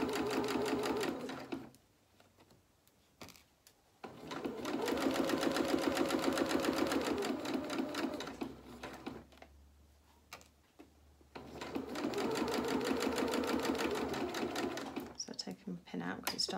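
Three runs of a sewing machine stitching a small doll shirt, each a few seconds of fast rhythmic whirring separated by pauses with clicks and handling noises.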